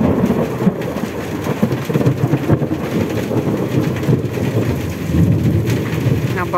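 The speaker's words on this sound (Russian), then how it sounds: "сейчас громыхнет" Heavy rain pours down hard and close during a long thunderstorm with hail, while deep thunder rumbles and cracks almost directly overhead, making a dense, loud, continuous wash of sound.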